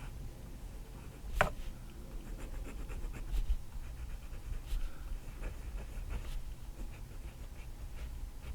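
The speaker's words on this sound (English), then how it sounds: "our dogs are attacking something in the yard" Dogs pant in a yard, quick breathy rhythms at middle distance. A few sharp scuffles or yelps break through the low background.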